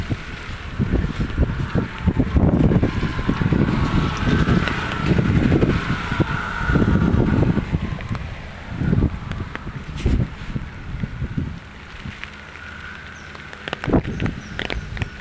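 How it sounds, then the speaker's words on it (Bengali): Strong cyclone wind buffets the microphone in heavy, roaring gusts that rise and fall, with occasional rustling and knocks. "এখনো বর্তমানে ভালো গতিতে বাতাস চলতেছে"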